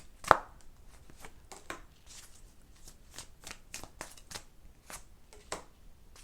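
Tarot guidance cards being shuffled by hand, a soft run of repeated papery riffles and taps at an uneven rhythm, close and fairly quiet, with one sharper snap near the start and no voices.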